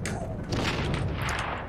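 A grenade detonates in the online war game Heroes & Generals, giving a short burst of heavy, booming blasts and crackle, loud and close.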